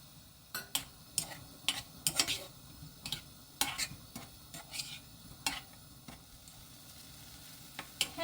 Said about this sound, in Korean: 팬에다가 불을 켜고 물기 뺀 햄을 넣어줄게요.